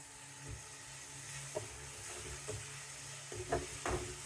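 Baby squid sauté in oil with softened tomatoes in a home kitchen. A steady sizzle runs throughout, broken by several scraping stirs and light taps of a spoon close by.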